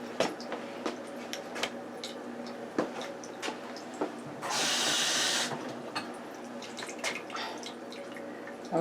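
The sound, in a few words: water being poured into stuffing batter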